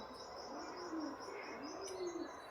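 Pigeons cooing in a colony where they are nesting with chicks, soft and somewhat distant, with a few rolling coos over a steady hiss of background noise.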